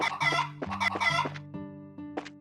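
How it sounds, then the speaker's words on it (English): Chickens cluck in the video game Trails in the Sky SC. It is a close, clear run of several rhythmic clucks and short squawks, with no talk. "Now these damn chickens."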